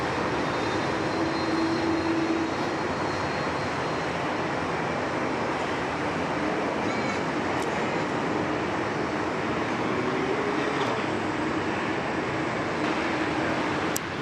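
An airliner takes off at Sydney Airport, its engines a loud, steady broadband roar that holds evenly for the whole stretch with no voices over it.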